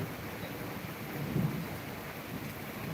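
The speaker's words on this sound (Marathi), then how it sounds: "आवाज ऐकलात का मंडळी? गडगडतंय बघा." Low thunder rumbling during monsoon rain in the Konkan countryside, a single swelling roll near the middle over a steady hiss of rainfall.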